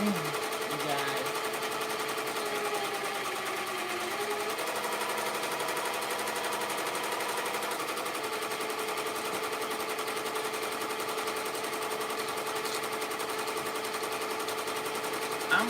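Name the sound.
sewing machine stitching with a bobbin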